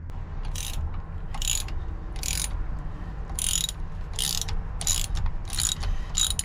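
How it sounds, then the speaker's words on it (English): A 9/16 socket ratchet loosens exhaust manifold bolts on a Mercruiser marine engine, giving about eight short bursts of bright ratcheting clicks at an uneven pace over a steady low background hum, close to the microphone. "for the bolt here, 9/16 socket, and it fits just right. So we're going to start taking off these right here."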